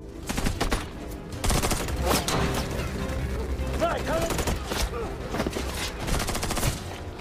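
Gunfire rips through a film shootout as the Triple C gang attacks FBI agents with bullets: dense, loud bursts of rapid shots run almost continuously, with brief lulls between volleys.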